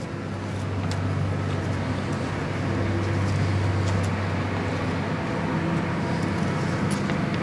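A Sierra PN2700 portable baler's Cummins 4 TBA three-cylinder diesel engine runs close by with a steady, loud, low rumbling drone that holds even throughout, with no talk.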